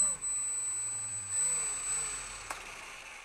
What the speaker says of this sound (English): we will take throttle hold off and see if it spools up